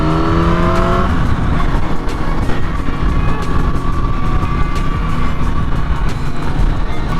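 A Kawasaki ZX10R motorcycle riding through Calgary in February, a loud steady engine drone with a short rising rev at the start and constant wind and road noise, no voices.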